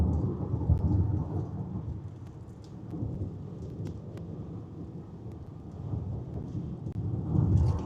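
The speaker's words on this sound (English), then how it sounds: "this is a heck of a storm" Heavy thunderstorm in Oklahoma during a tornado and large-hail outbreak, with steady loud rain and rolling thunder rumbling throughout, swelling near the start and end, plus some wind buffeting on the microphone.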